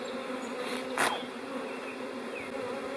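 Honeybee swarm buzzing around a newly forming hive, a dense continuous hum of many wings with single bees darting close past the microphone.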